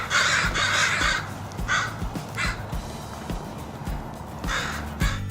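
Passing crows cawing in loud, harsh bursts, several calls in quick succession, then a pause and more scattered caws, close by over light outdoor background noise.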